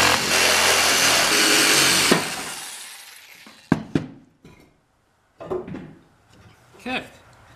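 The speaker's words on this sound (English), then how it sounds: "Now we're just going to take and cut out our grill scraper." Power tool cutting cedar to shape a grill scraper, a loud steady broadband whine for about two seconds that cuts off, followed by scattered sharp knocks and clatters of wood being handled in a workshop.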